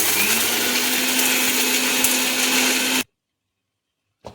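An electric grinder coarsely grinds asafoetida with spices, a loud steady whirring buzz for about three seconds that cuts off abruptly, followed by silence and a faint click.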